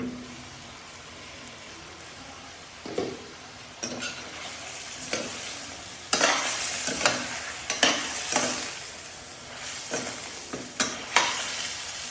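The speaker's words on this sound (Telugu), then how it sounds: "ఇవి బాగా వేగనివ్వండి మూత పెట్టేసుకొని" Vegetables fry in oil in a covered pan, with a constant sizzle broken by repeated louder bursts of stirring and scraping, close up.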